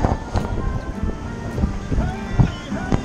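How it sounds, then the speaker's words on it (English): Gusting 25 to 30 knot wind roars over churning sea with 3 to 4 meter waves crashing and rushing close by, a rough, continuous noise, at sea between France and the Balearic Islands. "We're into a good 25 to 30 knots wind with 3 to 4 meter waves"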